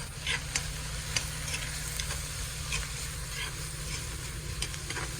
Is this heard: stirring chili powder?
yes